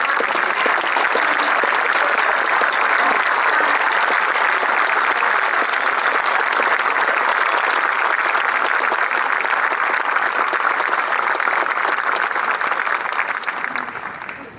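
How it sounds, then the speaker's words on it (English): Sustained applause from a large crowd honors a distinguished graduate at the United States Coast Guard Academy commencement, a dense, steady roar of clapping that holds strong throughout and begins to taper only at the very end. "Please join me in a round of applause for the distinguished graduate of the United States Coast Guard Academy"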